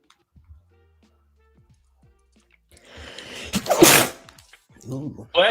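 One loud close sneeze bursts out after a quiet stretch of faint clicks, followed by a brief exhale or murmur.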